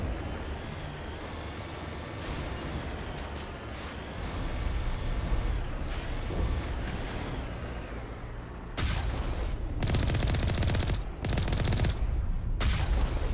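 Sustained gunfire in the video game Mass Effect, a dense, continuous rattle over a busy backdrop. It swells into heavier bursts of shots toward the end, with no talking.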